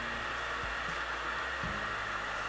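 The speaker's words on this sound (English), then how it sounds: "Here we're pointing our hairdryer at the table and letting the heat bounce up and underneath the film." A hairdryer blows hot air at a table to soften protective film on a Galaxy S5, producing a steady, loud, close whooshing roar with a faint motor hum and no talking.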